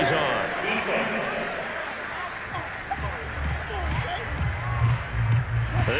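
Home stadium crowd in the Madden NFL 22 video game, a Detroit Lions vs Seattle Seahawks matchup, roaring in approval of a penalty flag; the broad cheer swells and holds beneath a commentator's voice.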